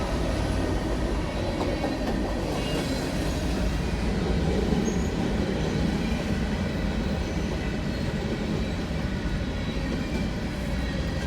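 A long CSX coal train of about 112 coal cars rolls steadily past, a continuous close rumble and clatter of wheels on rail with faint squeal, holding constant throughout with no talk.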